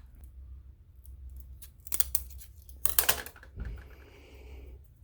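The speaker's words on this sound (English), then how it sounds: "I'm going to go ahead and cut this end off because it's probably not going to want to stick to that." An AN radiator hose on a muscle car has its end cut off, a few crisp snipping cuts in quick succession followed by a short rustle, close and otherwise quiet.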